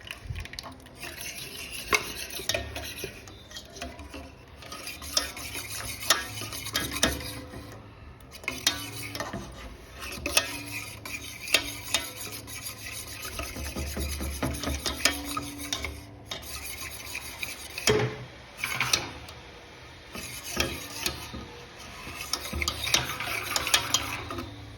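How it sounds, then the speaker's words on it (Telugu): A whisk stirs sugar and eggs in a mixing bowl for apple cake batter, giving a steady, close scraping and rattling that keeps going throughout with no voices. "సో షుగర్ అంతా మెల్ట్ అయిపోయే వరకు విస్కర్తో ఇలా తిప్పుతూ ఉండే"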